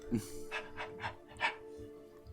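A dog in a fantasy tabletop-style game session pants in quick rhythmic breathy bursts, about four puffs in two seconds, close and clear over a steady background hum.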